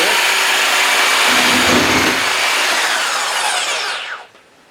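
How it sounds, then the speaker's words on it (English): An electric trimmer cuts through a branch with a loud, continuous buzzing whir that rises in effort as the blade bites into the wood, then winds down and stops near the end. "we're going to try cutting this branch"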